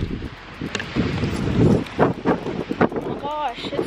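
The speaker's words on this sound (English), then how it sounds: "This is so windy though" Gusty wind buffets the microphone in rough, rumbling bursts while people talk over it close by.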